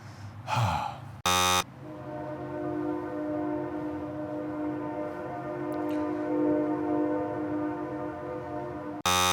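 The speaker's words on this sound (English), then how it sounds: "Why is there a train?" A passing train sounds a sustained, multi-tone horn for several seconds at moderate distance, with a breathy sigh at the start and abrupt electronic beeps at the edges.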